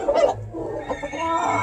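Small hens on a Georgia farm giving brief soft clucks and murmurs, close by, in a short burst with no talking.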